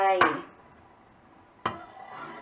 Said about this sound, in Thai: คนให้เข้ากัน แล้วก็ใช้ไฟอ่อนนี่แหละค่ะ